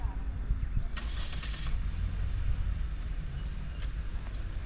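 A Chery Tiggo 7 Pro engine started by remote key runs with a steady, low rumble throughout, heard from outside the car with a couple of brief higher clicks or squeaks over the drone.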